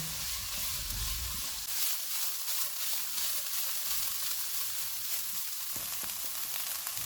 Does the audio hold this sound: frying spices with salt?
yes